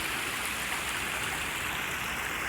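Water runs steadily through a small man-made stream in a park in Shizuoka, Japan, a constant close bright trickle and rush with no pauses and no voices.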